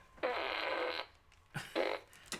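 A long, loud, buzzing fart lasts nearly a second, followed after a pause by two shorter, sputtering bursts and a final brief puff, all up close with no talking.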